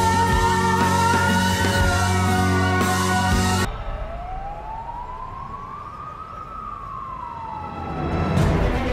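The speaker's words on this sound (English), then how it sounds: "There are more police sirens in this movie than real-life New York City." Police sirens wail over busy background noise, then a single siren sweeps up and down more clearly, rising and falling slowly.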